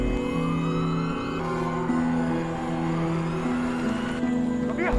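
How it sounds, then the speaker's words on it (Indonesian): A wailing ambulance siren sweeps steadily over busy traffic noise, fairly loud and continuous throughout, with faint voices mixed into the background. "Namun tiba-tiba terdengar suara sirene ambulan."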